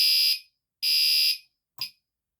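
A fire alarm on a home alarm board test sounds in loud, piercing electronic bursts: two long tones of about half a second each, separated by silence, then a short clipped blip.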